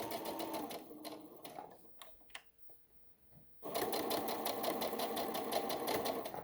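A sewing machine stitches a lace hem on a dress in a steady, fast mechanical run. It slows and stops for about two seconds with a few soft clicks, then resumes at full speed.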